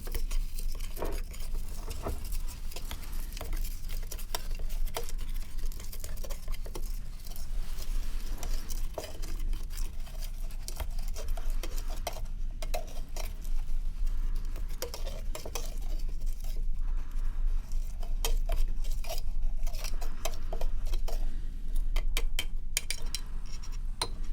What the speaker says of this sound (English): So I'm just going to stir that around.